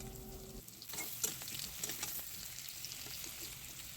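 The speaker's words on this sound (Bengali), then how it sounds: "এগুলো সুন্দর লাল লাল করে ভেজে নিতে হবে" Potato pieces tossed with a little turmeric fry in a pan, starting with a sudden burst of sizzle and then a continuous crackling hiss with stirring clatter, moderately quiet.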